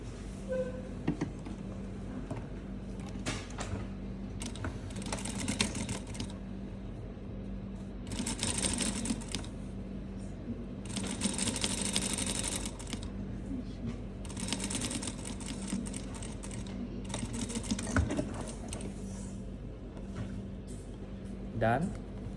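A sewing machine stitches a cuff seam at 1 cm in short, close bursts of mechanical whirring, with pauses and handling noises between runs.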